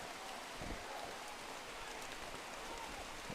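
Steady rain falls over an outdoor youth soccer match, a faint continuous hiss of drops with a few soft thuds in the background.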